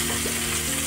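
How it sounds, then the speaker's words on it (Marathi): Onion frying in a pan, a dense continuous sizzle heard close up for a brief moment. "कांदा फ्राय करून घ्यायचा आपल्याला।"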